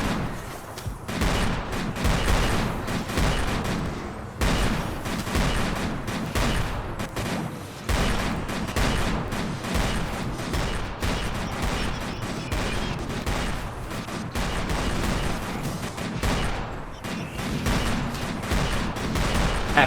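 Sustained sniper-rifle gunfire in a video game, a long stretch of dense, rattling volleys with brief pauses between bursts, loud and continuous, with almost no talk over it.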